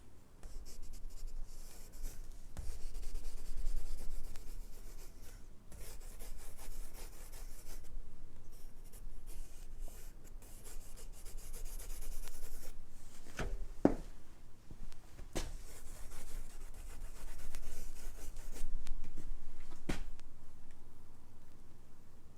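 A pencil moves across soft, smooth paper in a quiet room, making faint continuous scratchy strokes that come in irregular bursts with small taps and pauses.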